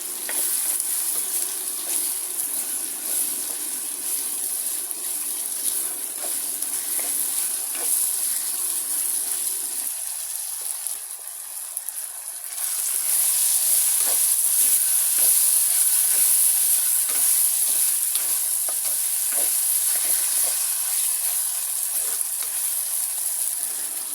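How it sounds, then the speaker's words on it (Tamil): Tomatoes are stirred into frying garlic and onion for a spicy garlic curry, a loud steady hiss and sizzle with repeated stirring scrapes, close up and unbroken by voices. "நாங்கள் தக்காளி பழத்தை சேர்ப்போம். சேர்த்து நல்ல வடிவாக கலந்து விடுவோம்."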